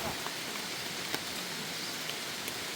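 Steady rain falling in a mountain forest, a soft even hiss with occasional sharper drops, faint and close, no talking.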